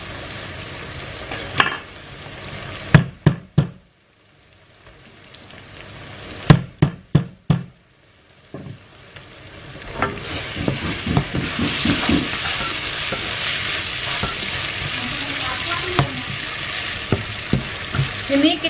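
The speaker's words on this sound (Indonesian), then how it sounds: "Ini kita tumis sampai kering, harum, wangi, semerbak" Spices, crushed lemongrass, galangal and a lime leaf sautéed in a wok for mie ayam, first sharp spoon knocks and clanks with quiet gaps, then a building, steady sizzle with continued stirring scrapes.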